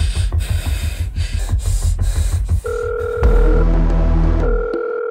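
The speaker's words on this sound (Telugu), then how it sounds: "అరే కౌశిక్, ఫోన్ ఎత్తడానికి ఇంతసేపు ఏంట్రా?" A telephone rings in a Telugu comedy short, its electronic two-tone ring repeating after a stretch of rhythmic thumping, loud and close.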